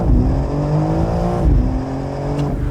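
A 2024 BMW M4 Convertible launches hard under launch control, its engine roaring loudly and continuously, pitch climbing through the gears with a brief dip at a shift midway, close and with no talk.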